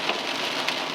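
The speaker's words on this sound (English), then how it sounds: "And it's raining cats and dogs." Heavy rain drums steadily on a car driving along a Minnesota highway in the first major downpour of the year, a dense continuous hiss with a couple of slightly louder splashes, no voices.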